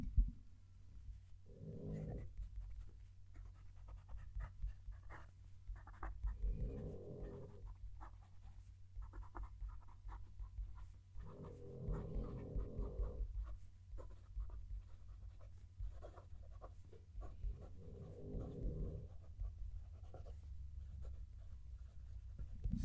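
A gold-nibbed fountain pen writes a sentence on paper, giving a very quiet, close scratching that comes in four short bursts with pauses between them over a faint steady background hum, with no talking.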